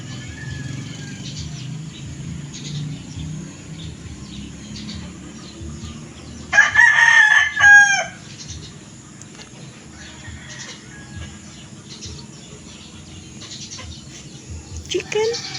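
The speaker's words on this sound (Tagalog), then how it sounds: "Chicken." A rooster crows once in the middle, a loud, rising and falling call lasting about a second over a steady background of outdoor noise and faint voices.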